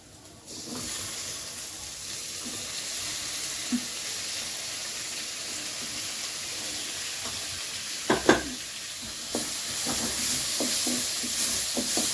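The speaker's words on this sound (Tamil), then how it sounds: "ஸோ இந்த மாதிரி ஸ்டேஜில் இப்போ நம்ம வந்து தக்காளி போட்டுக்கலாம்." Tomatoes, onions and turkey berries frying in a pan for kara kulambu, a steady close sizzle throughout with a few clinks of stirring, no talk.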